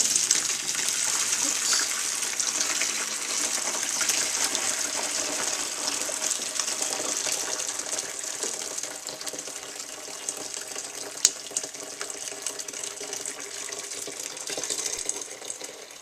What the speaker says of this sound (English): We're going to now try and sieve this effectively through the sieve.